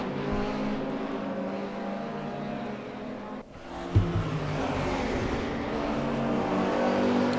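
Race cars climb toward the corkscrew at Laguna Seca in a racing game: a steady, close engine drone with revving, a brief dip and a sharp bump midway, then engines building again, loud throughout.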